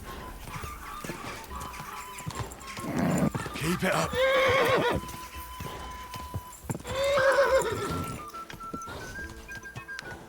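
Horse hooves clip-clopping at a gallop with loud whinnies in the medieval game Kingdom Come: Deliverance II, heard up close under excited talk from a player.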